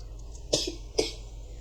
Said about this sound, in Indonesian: maaf ya teman-teman, aku batuk